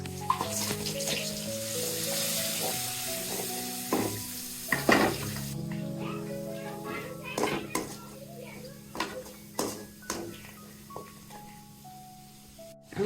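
Chilli powder, salt, coriander and cumin powder hit fried onions in a pan with a bright sizzling hiss that fades after a few seconds. Spoon scrapes and clatters follow while a person talks over the cooking.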